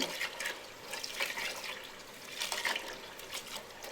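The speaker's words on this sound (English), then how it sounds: "after I rinse that a few times, again, as you can see, there is like some little floating grains, and we're just going to let that top water run" Water running and trickling while grains are rinsed for grain spawn, a faint, continuous splashing flow with small gurgles, no talking.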